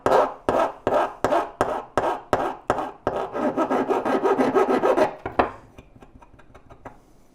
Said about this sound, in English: you take a fine file, finer than this